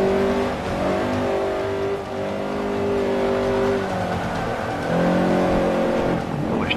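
VW Beetle with a swapped-in 2-litre Honda Civic engine and rear-wheel drive, racing in Forza 5 on the Bernese Alps track; a loud, close engine drones steadily, rising and falling through revs and gear changes.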